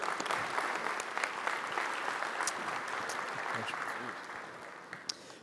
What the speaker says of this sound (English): Round of applause for Russell.